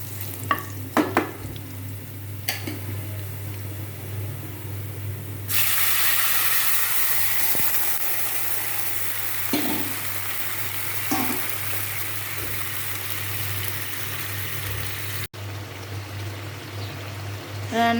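Taro stolons (kochur loti) cooking with garlic in a pan, a steady close hiss and sizzle that swells louder partway through, with occasional soft clinks and stirring scrapes and no talk.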